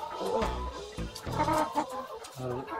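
A chicken clucks nearby in short, uneven bursts, with a few sharper squawks mixed in.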